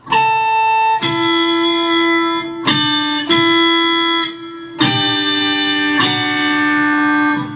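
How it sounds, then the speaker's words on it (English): A Boss SY-200 guitar synthesizer pedal plays sustained notes and chords in separate phrases, each attack rich in buzzy, organ-like harmonics, loud and alone with no talking. "here we're going to play just the pedal by itself."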